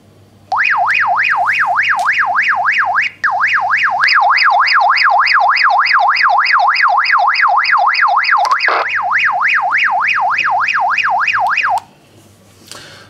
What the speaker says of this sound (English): Now when I press this alarm, this radio should key up.